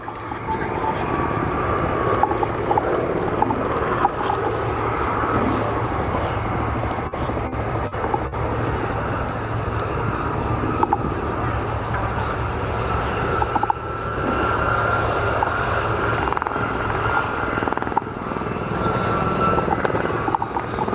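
A Gazelle HT3 helicopter in flight at an RAF air show, a steady, loud rotor and engine drone holding throughout without any talk.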